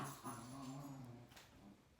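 Puppies whimper faintly in a quiet room, giving soft, drawn-out whines with slight pitch bends and a short yip toward the end.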